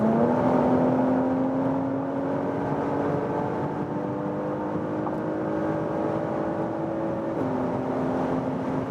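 A 2022 Porsche Macan GTS with its 440-horsepower engine pulls hard at high speed, a steady engine drone that climbs slowly in pitch over about nine seconds, then drops sharply at a gear change near the end, with loud road and wind roar throughout.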